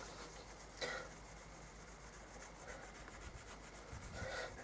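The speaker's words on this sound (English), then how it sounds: "you just polish it with wire wool, and it should come out, yeah, really smooth" Wire wool rubs over pitting on the fork of a Lexmoto ZSX 125 motorcycle, making quiet, soft scratchy polishing strokes, with a few slightly firmer swipes standing out from a low background hiss.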